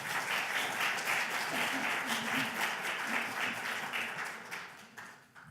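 An audience at a church leadership talk applauds, steady dense clapping that holds for several seconds and then fades out, with no voices over it.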